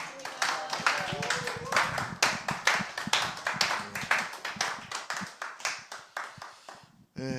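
Church congregation applauding at a worship service, a close, busy patter of many hands clapping in uneven rhythm that stops abruptly near the end.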